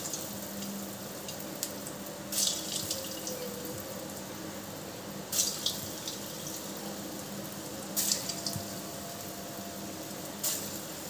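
Lentil fritters (bora) fry in hot white oil, giving a soft, steady sizzling hiss with a few faint crackles and clinks, fairly quiet and without talk.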